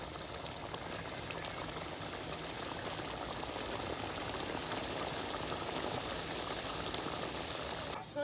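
Prawn and mustard curry cooked in tender coconut, simmering on a village stove with a steady, quiet bubbling hiss that runs unbroken, heard up close with no voices.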